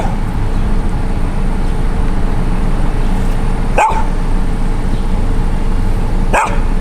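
An injured black dog barks twice, sharp and a few seconds apart, over constant road traffic noise outdoors.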